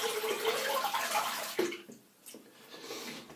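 Running water splashes over a Rex Ambassador adjustable razor as it is rinsed under a tap, a steady close gush for about a second and a half, then fading into scattered drips and trickles.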